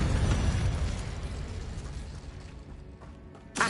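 Spells are cast in Hogwarts Legacy: a fiery burst lands first, then rumbles and fades over several seconds, and a sharper blast snaps at the end.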